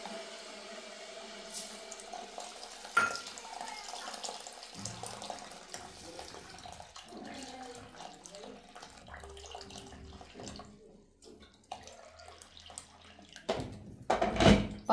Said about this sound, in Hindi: तो मैं गुनगुना पानी डालूंगी इसमें ताकि ये जल्दी भीग जाए।